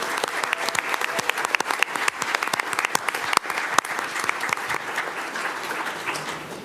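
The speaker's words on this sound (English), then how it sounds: "Everybody please join me in congratulating Mason Dorenzo as BASA's exceptional salutatorian." A school board meeting audience applauds a graduating salutatorian with thick, sustained clapping and scattered sharp, close handclaps standing out from the crowd, fading gradually toward the end.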